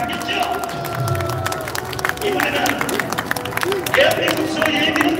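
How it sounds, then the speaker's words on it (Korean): A crowd at an outdoor political rally in Gwanghwamun, Seoul, claps and cheers in a loose, continuous wash of noise, with voices and a public-address speaker audible over it. "여러분 박수 한번 좀 보내주십시오."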